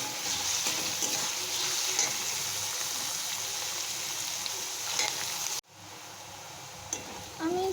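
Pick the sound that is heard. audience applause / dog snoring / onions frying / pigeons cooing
onions frying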